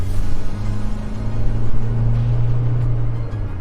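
A new diesel pickup truck engine rumbles steadily and rises in pitch as the throttle is pressed, a close, continuous drone of revving with no talk over it.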